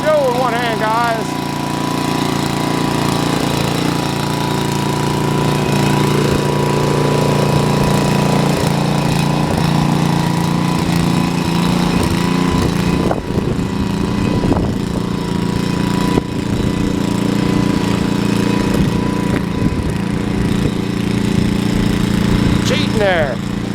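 An old Troy-Bilt tiller engine runs steadily in second speed, a loud continuous chugging drone with a few louder knocks and bumps, close by and unbroken throughout.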